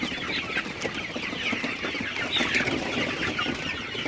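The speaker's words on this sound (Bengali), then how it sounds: "আপনারা দেখতে পাচ্ছেন আমার সোনালি সুপার হেভিট মুরগিগুলো আসলে পাগলের মতো খাইতেছে" Many Sonali hybrid chickens cluck and chatter together at close range, with steady pecking and scratching sounds as they feed on crushed chickpeas at night.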